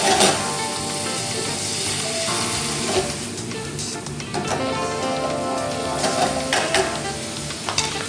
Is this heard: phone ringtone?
no